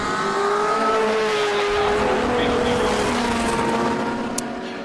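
Ford Escort touring cars from a heritage touring car race sweep past with a loud, sustained engine roar that fades slightly at the end.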